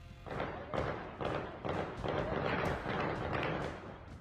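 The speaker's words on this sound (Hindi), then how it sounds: "गोलियों की यह आवाज प्रमाण है तालिबान और पाकिस्तान के बीच जारी जंग अब और भीषण हो चुकी है" Gunfire from the fighting between the Taliban and Pakistan, heard as a steady run of about nine muffled, evenly spaced heavy thuds at moderate distance, with no voices over them.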